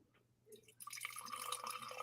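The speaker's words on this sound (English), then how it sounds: "There's the pour up." A drink pouring into a glass, starting with a few faint drips before a steady splashing stream fills the vessel, close and fairly quiet.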